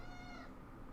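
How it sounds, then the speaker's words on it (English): A house cat gives a single short meow, close and fairly clear over a low background hum, with no speech. "But that's a cat."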